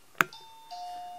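An EcoDring wireless, battery-free doorbell is pressed. A sharp click is followed by a clear electronic two-tone chime that rings on and fades, heard alone in a quiet setting.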